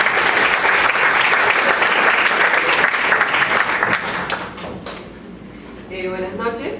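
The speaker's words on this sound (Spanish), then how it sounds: "a quien recibamos con un fuerte aplauso." An audience at a university book launch in Peru applauds loudly, dense sustained clapping that fades out after several seconds, followed by a voice beginning to speak.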